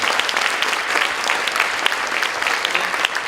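An audience at a Korean next-generation conference talk concert gives four panelists warm applause, dense continuous clapping from many hands throughout, close and loud, with no talking.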